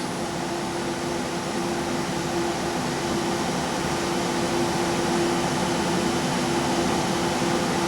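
Small alternator spinning on a generator and starter test stand under a substantial electrical load, giving a steady, even whir with a constant tonal hum and broadband fan-like noise throughout, no voices.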